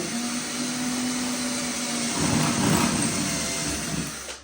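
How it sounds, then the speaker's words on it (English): Steady whirring of a power drill drilling a hole to mount an L-shaped corner shower curtain rod, running close by, its motor pitch shifting slightly partway through before winding down. "Put your drill in here and drill that hole."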